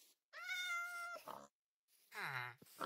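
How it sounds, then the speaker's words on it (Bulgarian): Two meows from a cat in Minecraft, the first a long drawn-out call and the second shorter and rising, separated by a short silence, clear and close with no talking. "Ай, вижте, има коте."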